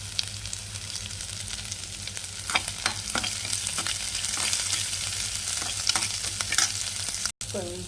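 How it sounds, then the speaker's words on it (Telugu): Onions, curry leaves, green chillies and ginger pieces frying in oil in a pan, a continuous close sizzle with intermittent spatula stirs and scrapes, no voices. "ఇప్పుడు ఇందులో మనం మిగిలిన పచ్చిమిర్చి, అల్లం ముక్కలు అనేవి వేసుకొని ఫ్రై చేసుకున్నాం."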